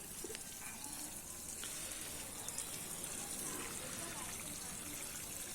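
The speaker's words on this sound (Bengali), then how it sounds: "তো এইভাবে আগে গোড়ায় জল দিন।" Water is poured at the base of a newly potted rose plant set in cinder mix, giving a soft, continuous trickling and splashing that stays faint and even throughout.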